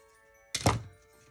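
A piece is trimmed off a handmade wooden Christmas gift tag, making one abrupt, fairly loud thunk that fades quickly into quiet.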